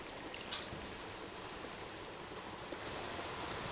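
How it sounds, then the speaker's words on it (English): A video game waterfall with trash falling sends out a constant rushing wash of water, broad and steady, with a couple of faint brief clinks near the start and no talking. "Soothing sounds of trash falling, shimmering waterfalls, no dangers."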